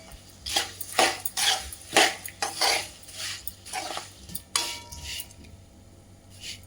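A spoon scrapes and clinks against a pan while poha (attukulu) mixture is stirred, in a series of irregular bursts that trail off into quiet near the end.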